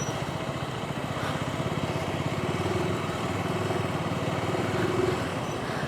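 Himalayan motorcycles rumble on a rough mountain road between Pokhara and Marfa in Nepal. A steady, close engine drone holds throughout with a slight swell near the end, and no voices are heard.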